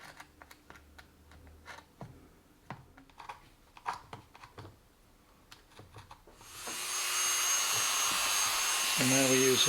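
A Dremel rotary tool opens holes in carbon fibre, first preceded by scattered clicks and handling knocks, then starting up midway into a loud, sustained high-pitched whine that runs close to the end.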